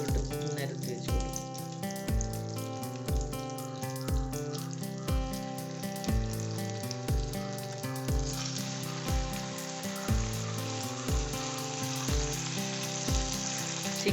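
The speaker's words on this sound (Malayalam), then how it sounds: "ഈ സൺഫ്ലവർ ഓയിലിനകത്ത് മാത്രം നമ്മൾ ചിക്കൻ ഒന്ന് ഫ്രൈ ചെയ്തെടുത്താൽ മതി. ഡീപ് ഫ്രൈ അല്ല, നമ്മൾ ഷാലോ ഫ്രൈ ആണ് ചെയ്യുന്നത്." Chicken pieces shallow-fry in sunflower oil for butter chicken, giving a constant sizzling hiss under a rhythmic music track with a steady beat.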